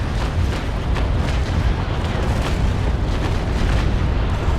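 A broadside from ship cannons in the Naval Action naval battle game, heard as a dense, continuous roll of heavy booming blasts that overlap into one loud rumble.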